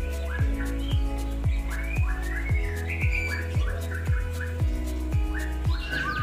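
Caged songbirds at a magpie-robin breeding farm whistle and chirp in rapid, repeated phrases. The calls are close and fairly loud, and a regular clicking or tapping beat runs under them.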